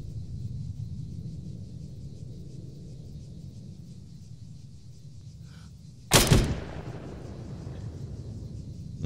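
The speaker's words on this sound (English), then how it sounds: "Not a bad sniper rifle at 1200 meters." A single sharp, loud rifle report from an SPS AI AXMC sniper rifle in a shooting game, with a rumbling tail rolling out over a low, steady background drone.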